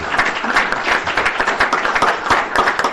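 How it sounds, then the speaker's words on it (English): Warm round of applause from the audience at a Pima County Board of Supervisors meeting, a close, dense patter of many clapping hands continuing steadily throughout. "Let's give these folks a nice warm round of applause for the work they do."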